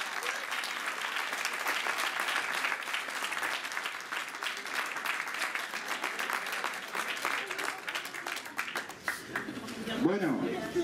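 Sustained crowd applause at an award ceremony for a rapid painting contest in Albelda de Iregua, steady and dense throughout with a brief voice near the end.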